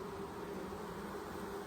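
Honey bees humming inside a weak late-fall hive with only a few old bees left, a steady low, close buzzing drone that holds evenly throughout with no voices.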